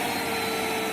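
A Limatic UVC Carbon Dry Steam-Vac machine runs its vacuum motor with a loud, steady close-up roar and a faint high whine, no voices.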